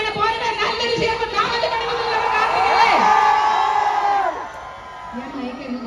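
A crowd cheers and shouts loudly at a shop inauguration in Mannarkkad, with whoops and children's yells rising and falling in a sustained roar that thins toward the end.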